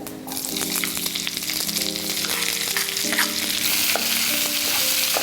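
Chopped onion hits hot oil seasoned with fennel and a bay leaf, starting a loud close sizzle that builds and holds steady, broken by a few metallic stirring taps, with no voices.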